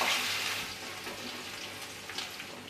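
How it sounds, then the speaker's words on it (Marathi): Mustard seeds, cumin, curry leaves, crushed garlic and asafoetida sautéing in hot oil for an okra dish, a steady broadband sizzle and crackle throughout, fairly loud and close, with no voices. "थोडंसं परतून घेऊया"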